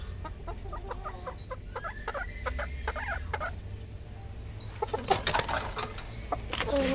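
A Gilmore Hatch gamecock rooster clucks in a series of short, repeated calls, with a louder burst of clucking near the end over a low outdoor background.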